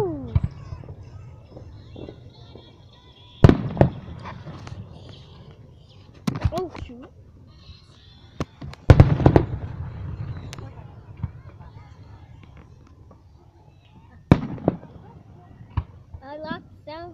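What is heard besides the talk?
fireworks exploding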